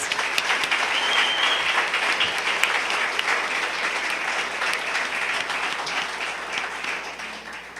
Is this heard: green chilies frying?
no